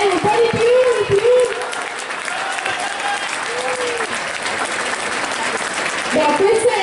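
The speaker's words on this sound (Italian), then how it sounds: "ci fate un bel applauso, ci fate sentire" Audience applause in a shopping centre crowd gathered at an Italian record-attempt cake event, a steady wash of clapping with a voice calling out over it and brief louder bursts near the start and end.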